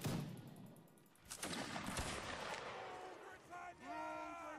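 Musket volleys in a video game battle, a dense rolling barrage of shots over several seconds, with a sharp burst near the start and whistling, ringing tones toward the end.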